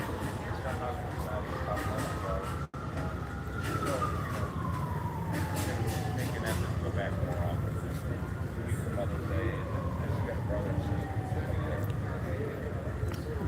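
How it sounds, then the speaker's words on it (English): Distant sirens wail and rise and fall in slow sweeps at an outdoor bike rally, heard faintly far off beneath a continuous background rumble of traffic and crowd. "Somewhere we got sirens."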